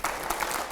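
Enthusiastic audience applause in a TV9 Hindi news studio during a panel show, a dense burst of clapping filling the whole short moment at steady volume.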